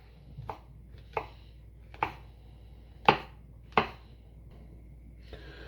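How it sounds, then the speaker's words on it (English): Mushrooms are sliced with a knife on a cutting board while a pork Wellington is prepared, five or six sharp, separate chops spaced about a second apart in a quiet kitchen. "I'm just going to chop a few mushrooms into it."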